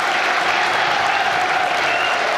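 A football crowd at a Carlisle United home match against Stockport cheers and applauds steadily for the taking of the knee, with some scattered boos mixed into the broad, continuous roar.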